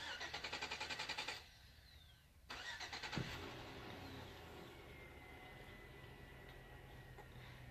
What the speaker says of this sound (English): Who got a bright orange truck like that?